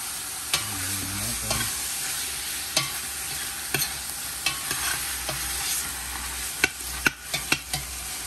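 Chicken thighs for tinola sizzle and fry steadily in a pan, broken by sharp scrapes and taps of a spatula stirring them, close and fairly loud with no talking.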